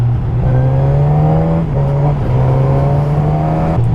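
A 2017 Suzuki GSX1000F sports motorcycle engine revs hard while being ridden, a loud, steady, close drone that rises and falls in pitch with brief dips as the rider shifts gears.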